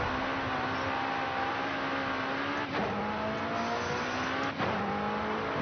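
A McLaren GT4 race car in a racing video game, its engine droning steadily at high revs through a fast lap, with two sharp gear shifts breaking the tone before it climbs again.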